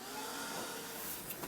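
A hairdryer or heat tool blows steady, broadband air over wet paint on an art journal page, a close continuous whoosh with no talking.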